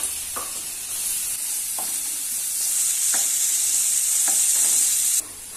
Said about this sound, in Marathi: तेल गरम झाल्यावर सर्वात आधी कांदा,